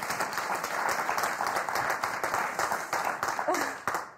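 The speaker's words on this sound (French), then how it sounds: "Et si on applaudissait Odile et Philippe?" A game-show studio audience claps in a steady, moderate burst of applause that continues evenly throughout, heard at a modest level with some individual claps standing out.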